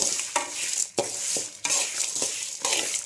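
Idli powder ingredients dry roasting in a pan, stirred with repeated scraping strokes about every half second over a soft background rustle, close and clear.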